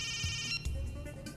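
A telephone ringtone plays in a Hindi-dubbed South Indian gangster film: a steady, repeating electronic ring with bright tonal pulses over a low background rumble, lasting about a second and a half with no talking.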